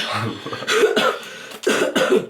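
A few sharp coughs in two bursts, close to the microphone, with brief throat noise between them and no talking.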